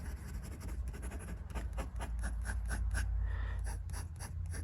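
An Artisan Fountain Pens Classic fountain pen with a grippy nib scratches across paper in a close series of short, rhythmic strokes, each with a faint audible catch.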